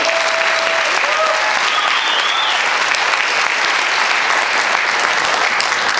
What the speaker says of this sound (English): Have a round of applause for lobstermen.